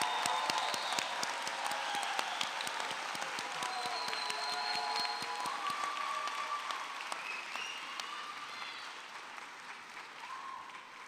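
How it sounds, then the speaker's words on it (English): Sustained applause from a large convocation audience at a dental medicine school graduation ceremony, steady dense clapping that fills the hall for the whole stretch and eases slightly toward the end. "I think we owe a round of applause to both Najaf and Mina."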